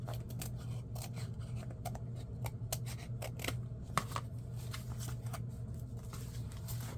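Scissors snip paper repeatedly, trimming the edges of a handmade no-sew journal in a quiet room; the close, crisp cuts come in an uneven rhythm over a low steady hum.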